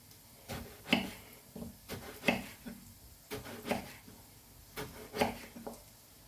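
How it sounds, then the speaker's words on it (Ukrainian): A knife cuts a large eggplant into big chunks, giving a series of sharp, evenly spaced chops against a board, about eight distinct strikes at close range with no voices. "Такими крупненькими шматочками нарізаю."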